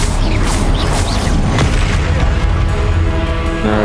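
An Expelliarmus spell is cast in Hogwarts Legacy combat, producing loud booming magical impacts and whooshes followed by a ringing, shimmering tail, all close and dense with no speech.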